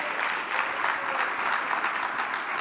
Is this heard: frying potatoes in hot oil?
no